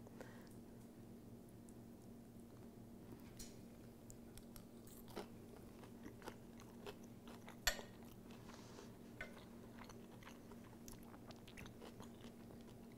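Someone eats Bolivian silpancho with a fork and spoon, faint close crunches and chewing alongside scattered light clinks of cutlery against a plate, no talking.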